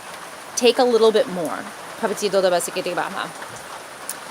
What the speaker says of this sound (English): I just want to zone out to the rain. I don't know if you can hear it, but it's absolutely pouring